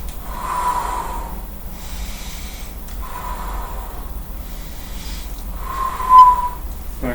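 Forceful breaths through the nose during a weightlifting-inspired core exercise, with the belly held in and breathing kept in the chest. Three distinct snorting exhalations come at roughly three-second intervals, close and fairly loud, with no talk.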